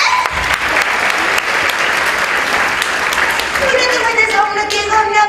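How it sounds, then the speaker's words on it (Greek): A live audience applauds loudly and steadily, with dense clapping throughout and a voice speaking over the ovation near the end. "σας ευχαριστώ που συνεχίζετε να με χειροκροτάτε"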